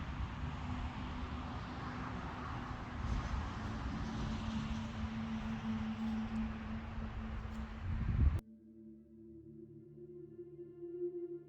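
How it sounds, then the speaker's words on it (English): Steady wind buffets the microphone with broad rumbling roar for about eight seconds in a cemetery, then cuts off abruptly, leaving a quiet low hum. "I do apologise for the wind."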